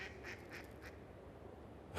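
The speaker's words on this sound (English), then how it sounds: "And the ducks are very happy." Ducks on the Pilica river on the outskirts of Tomaszów Mazowiecki, a few quick quacks at moderate distance in the first second over a faint outdoor hush.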